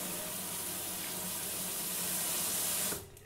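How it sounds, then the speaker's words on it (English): Rice being rinsed under a running kitchen tap: a steady, full hiss of flowing water that stays even and close, then cuts off abruptly just before the end. "we're going to rinse it under the tap quite well"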